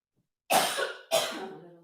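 Two harsh coughs in quick succession from a person leading a flowing strength exercise session, close and loud, with silence before them.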